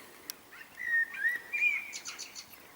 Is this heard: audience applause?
no